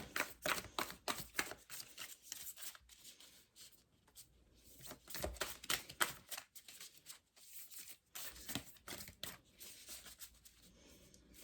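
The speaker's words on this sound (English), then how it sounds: "it's not easy for me to shuffle these heart cards" Tarot cards being shuffled by hand, heard up close and quietly as repeated rapid riffling and flicking bursts with short pauses in between.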